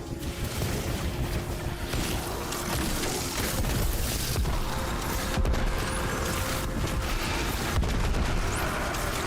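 Video game gunfire and explosions form a dense, loud, continuous barrage with sharp cracks over a heavy rumbling wash throughout.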